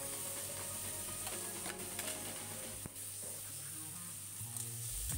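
Chopped tomatoes tipped into onions frying in a pan, a soft continuous sizzle with stirring scrapes and clinks of a utensil against the pan, close and fairly quiet.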